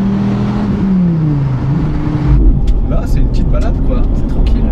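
A Toyota Supra MK4 with its 2JZ engine drones smoothly at steady low revs on a calm drive, pitch easing down as it shifts, with a continuous close cabin rumble beneath someone talking.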